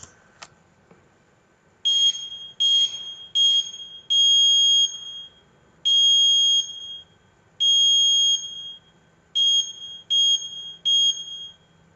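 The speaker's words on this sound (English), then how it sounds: "the LED was blinking and the buzzer was sounding every time" An Arduino buzzer beeps SOS in Morse code: groups of short and long high-pitched tones with brief gaps between them, clear and close over a quiet background.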